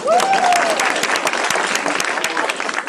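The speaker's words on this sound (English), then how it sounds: "Somebody clap for me." Audience at a team meeting applauds loudly and steadily for about three seconds, a dense wash of many hands with a brief whistle rising near the start.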